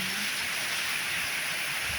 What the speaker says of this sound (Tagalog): Sobrang lakas po ng ulan ngayon